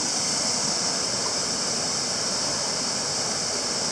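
A waterfall and stream rush steadily above a dam in British Columbia, a loud, unbroken broadband roar of falling and flowing water with no voices.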